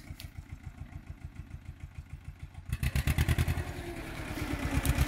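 A Fiat 215 tractor engine idles with a steady, close, chugging beat, then the rhythm gets louder and more forceful as the throttle comes up, with no one talking.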